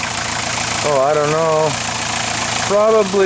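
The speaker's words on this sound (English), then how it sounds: "I've idled this thing since I put the engine in" A car engine idles steadily after a recent engine swap, with stale fuel from 1989 still in the tank; its even, close hum runs under someone talking.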